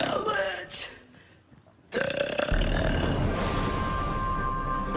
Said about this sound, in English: Can you say Paranormal Challenge in a burp?